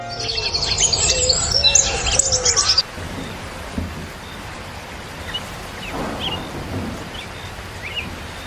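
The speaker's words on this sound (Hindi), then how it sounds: "बारिश की पानी तुझे छींटे पड़ेंगे" Cartoon rain falls outside a window as a dense, steady hiss for about three seconds, then cuts off abruptly to quiet ambience.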